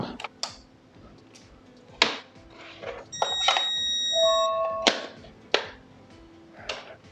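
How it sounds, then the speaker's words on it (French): A series of steady electronic alarm beeps from a Somfy home alarm system downstairs, stepped tones rising and falling, sounding from a distance amid scattered clicks and handling noises. "j'ai mon alarme qui est en bas, qui a également sonné"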